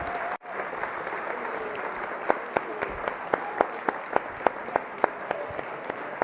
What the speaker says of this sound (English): congratulations, big round of applause for Vocal Image